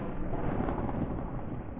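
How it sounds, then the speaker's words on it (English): Explosions in Garry's Mod rumble as a dense, muffled low boom that rolls on for under two seconds, with no voices. "Those were explosions."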